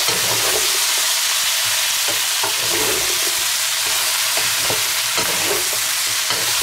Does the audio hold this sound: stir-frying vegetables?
yes